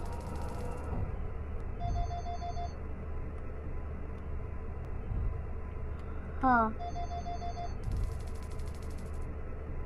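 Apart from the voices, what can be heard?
real phone ringing during a horror game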